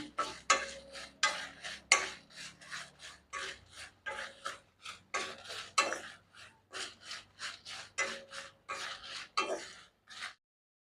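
Dried chillies and spices are dry-roasted in a pan for Chettinad sambar powder. A spoon scrapes and taps the pan in a quick, uneven rhythm of close, crisp strokes with faint rustling between them.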